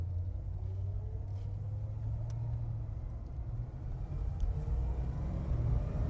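A 1970 Monte Carlo's V8 engine idles smoothly, a steady low rumble holding an even, quiet tone with no revving.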